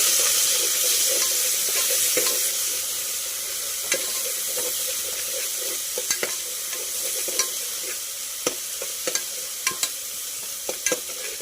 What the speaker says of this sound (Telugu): ఇంకో పచ్చిమిర్చి చీలికలు వేసుకొని కలుపుకోవాలి